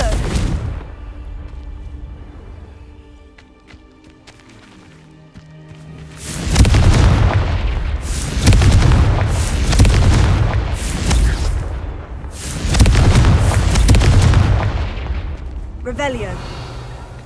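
The blasting spell Confringo in Hogwarts Legacy sets off heavy, rumbling explosions, a quieter stretch giving way to several loud booming bursts in a row, each followed by a roaring tail.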